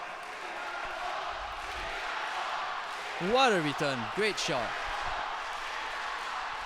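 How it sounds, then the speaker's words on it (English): Spectators at a Davis Cup Asia Oceania Group III doubles tennis match between Sri Lanka and Singapore cheer and shout in a brief, loud burst over the steady hum of the crowd, with a commentator talking. "You can hear the crowd really getting behind the Singapore players."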